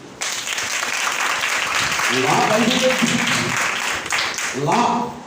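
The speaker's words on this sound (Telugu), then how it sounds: "క్లాప్స్ కొట్టండి" A church congregation applauding during a sermon, a broad wash of clapping that swells after a brief opening and carries on steadily, with a voice speaking over it near the middle and end.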